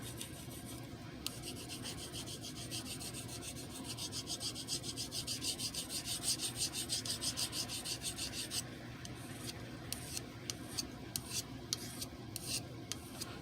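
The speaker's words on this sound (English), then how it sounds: "So let me take the Fuji real quick and spot sharpen on the" Blade tip is spot-sharpened by hand on a sharpening stone, giving close, quiet rhythmic rasping strokes that run steadily and then break into short separate passes near the end.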